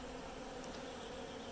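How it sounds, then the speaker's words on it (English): Honeybees circle a beekeeper on their orientation flights after a hive move, making a faint, steady, close buzzing hum that fills the air without pause. "They're just circling and doing orientation flights. But I am definitely encircled in bees right now."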